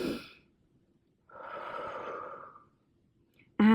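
Deep, slow breaths during a third-trimester pregnancy workout: a short exhale, then a long drawn breath after a pause, close and soft, with a sharper sound cutting in at the end.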